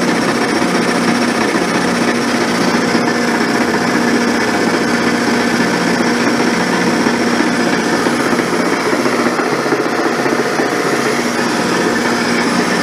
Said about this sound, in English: got a little chatter till she finally gets into the cut